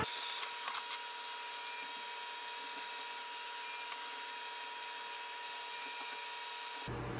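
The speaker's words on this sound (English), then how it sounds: "click on the scan button. So it will send a command for the printer." A Canon Pixma TR7620 printer scanning pages, a steady mechanical hum and whir running alone for about seven seconds with faint clicks, then cutting off abruptly near the end.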